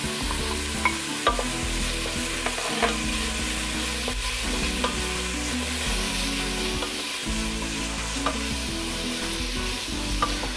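Onions and bell peppers sizzle steadily in a frying pan for chili con carne, with repeated scraping stirs of a utensil across the pan surfacing through the constant fry, close and clear with no talking.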